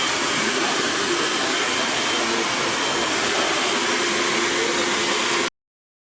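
A hair dryer blows loud and close, drying hair in a steady, unbroken whoosh for about five and a half seconds before cutting off abruptly into silence.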